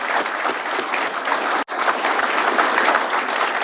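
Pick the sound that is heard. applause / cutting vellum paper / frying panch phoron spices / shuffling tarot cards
applause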